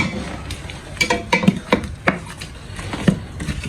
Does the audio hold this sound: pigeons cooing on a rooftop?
no